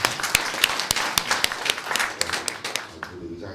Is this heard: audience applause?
yes